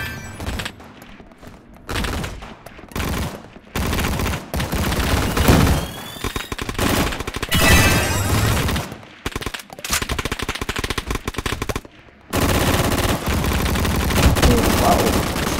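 Bursts of automatic and single-shot gunfire from a Roblox Gunfight Arena shooter match, loud and close, coming in dense volleys separated by short gaps, with some talking mixed in.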